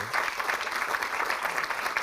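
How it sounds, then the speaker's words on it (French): An audience in a hall applauds as a guest is called to the stage, a dense, lively clatter of clapping hands sustained throughout. "je vous demande d'applaudir"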